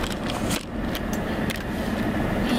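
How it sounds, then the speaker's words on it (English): An air conditioner running indoors, a steady broadband whoosh and low rumble that holds constant throughout, with no talking over it. "sorry if you can hear the AC"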